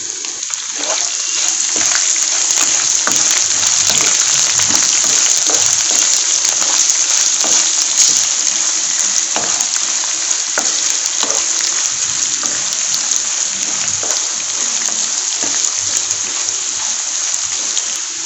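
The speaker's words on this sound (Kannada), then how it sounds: "ಸೊ 1 ಈರುಳ್ಳಿನ ಹಾಕ್ತಾ ಇದ್ದೀನಿ." Chopped onion fries in a pan of hot oil for lemon rice, making a loud, continuous hiss dotted with sharp crackles and pops.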